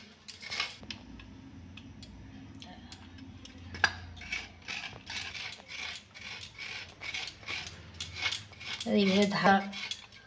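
Coconut is grated by hand for patishapta pitha with repeated rasping, scraping strokes in an uneven rhythm, close and fairly quiet, ending with a brief metallic scrape.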